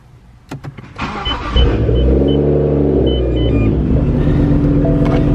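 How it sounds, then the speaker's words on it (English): A car fitted with Airlift air suspension cranks with a few clicks and a brief whir, then catches and settles into a loud, close, steady idle rumble. "if I start the car"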